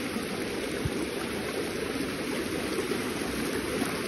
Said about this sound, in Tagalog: Malakas kasi ang agos ng tubig oh.